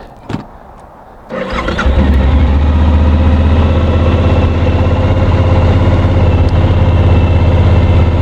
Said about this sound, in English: It fires up very quickly